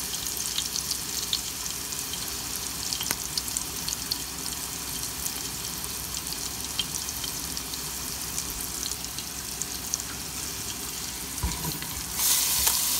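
Cinnamon sticks sizzle in hot oil for bhuna khichuri, a steady broadband frying hiss throughout with a slight swell near the end and no voices.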